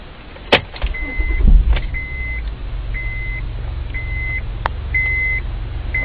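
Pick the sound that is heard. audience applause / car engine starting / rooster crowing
car engine starting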